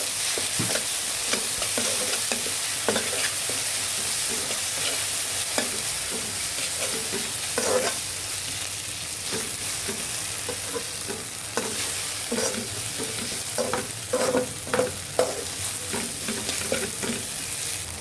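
Onions fry in a pan for a ridge gourd and chana dal curry, a steady sizzle with frequent scraping stirs and spoon clinks, close and continuous with no one talking.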